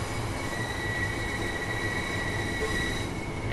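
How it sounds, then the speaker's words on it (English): A train in Train Sim World 2020 on a Southern route rolls with steady rumbling and a sustained high wheel squeal as it slows to a stop, loud and continuous with no talk. "And this is our train stopping"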